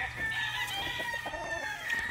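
Boston Black pullets and hens clucking and calling together in a flock, a steady close chorus of overlapping cackles and shrill bird voices with no talk.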